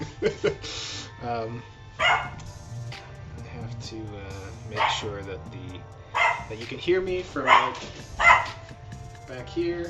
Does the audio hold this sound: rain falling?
no